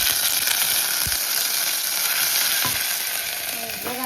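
Ginger sizzles steadily in hot oil while a tuver and potato curry is started, a loud continuous crackling fry close up with a few brief clinks of a utensil against the pan, no voices.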